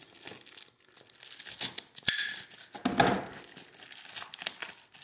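Utility knife slitting open the plastic packaging of a planner, crinkling and tearing with a few sharp cuts and rustles, close and fairly quiet, no talking.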